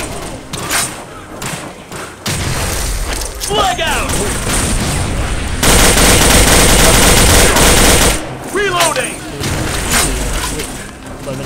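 Machine gun fire in a Battery/CBT military shooter game rattles in dense bursts alongside thumps and explosions, with loud sustained barrages and short pauses between volleys.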